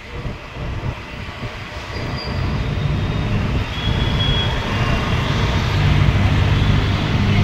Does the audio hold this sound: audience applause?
no